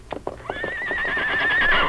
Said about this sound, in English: The Lone Ranger grabbed the bridle and calmed the horse.